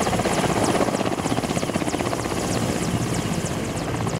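Mi-8 helicopter running steadily at close range, a loud continuous rotor thump with rapid rhythmic blade chop and a high engine whine throughout, no talk.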